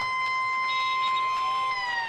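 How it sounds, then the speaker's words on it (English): End-of-match siren at an Australian rules football game in Ballarat, a loud sustained tonal wail holding steady across the whole stretch with crowd noise beneath. "there's a siren!"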